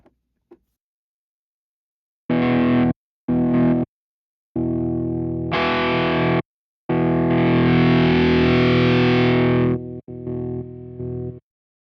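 Electric guitar through a Flatsons KMF-1 multi-effects pedal with the noise gate off, heavily distorted bursts and held notes separated by gaps of silence, loud and close with no talk.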